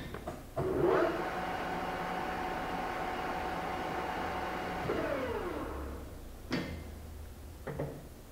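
Victor 1640B engine lathe with a 16 inch swing and 40 inch centers, running at a higher spindle speed. A quiet, steady whirring rush starts abruptly, holds for several seconds, then fades, followed by a few faint knocks.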